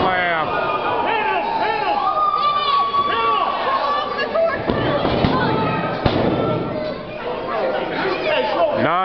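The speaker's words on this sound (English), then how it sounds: "The crowd is into it." Wrestling arena crowd chattering and cheering during a match between Jimmy and the Samoan Tsunami, a loud continuous roar with occasional thuds and slams, a commentator-style voice talking over the noise throughout.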